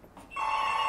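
A telephone begins to ring abruptly after a moment of quiet, a bright sustained electronic trill, close and fairly loud, with no one speaking.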